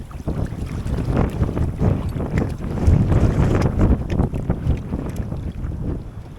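Strong, gusty wind buffets the microphone by a jetty, a loud continuous roar that swells and eases with the gusts, with no voices.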